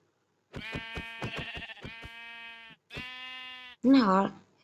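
Minecraft sheep bleat in a short volley of clipped, nasal calls followed by a couple of longer sustained bleats and a final louder cry, close and clear with no talk over them.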